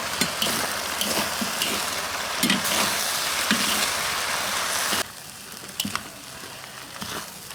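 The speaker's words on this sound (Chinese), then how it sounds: "面蒸熟了，跟菜拌起来" Steamed noodles tossed with vegetables and chicken in a hot pan give a steady, close sizzle with scraping stir strokes, then the frying hiss drops noticeably quieter partway through; no talking.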